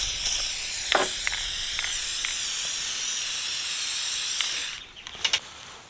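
Paint sprays steadily onto a Reed No 32 vise in a shop, a close, continuous hiss with a few faint ticks, cutting off near the end before a couple of brief clicks.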